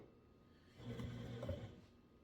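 A bread maker switched on and starting to run for a dark-crust grey loaf, giving a brief quiet mechanical whir and hum that rises after about a second and fades again, alone with no talking.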